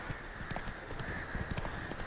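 Horse hooves gallop in The Witcher 3 video game, a quick continuous clip-clop rhythm of a ridden horse, steady and moderately quiet throughout.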